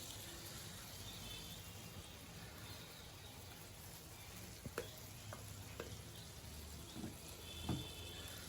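Spice paste for a capsicum chicken kosha fries in a pan with a soft, continuous sizzle. A few faint scrapes of stirring come through at intervals.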